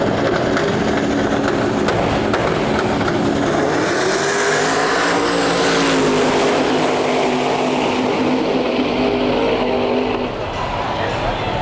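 Drag race cars in the Quick Street class roar down the track at night, a loud sustained engine howl rising in pitch as they accelerate past and then fading slightly, with a voice talking over it.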